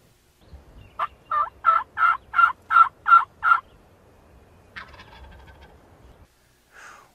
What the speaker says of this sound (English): now he's dead behind me gobbling